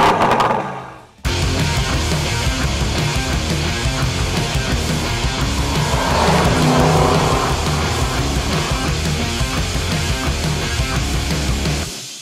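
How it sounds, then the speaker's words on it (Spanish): The 550-horsepower V8 of an Aston Martin DBX SUV roars to life after a brief quiet moment, then revs hard and accelerates, loud and close throughout. "voy a exprimir los 550 caballos de este V8 que suena así de bien"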